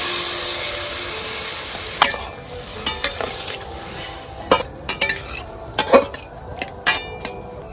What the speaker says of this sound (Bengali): এইবারে জল দিয়ে শসাটা দিয়ে দিচ্ছি